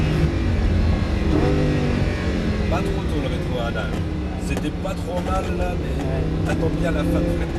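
Lamborghini Huracan 610-4 on the straight at Circuit d'Abbeville, its engine note climbing continuously under acceleration with a loud, steady roar; someone talks over it throughout.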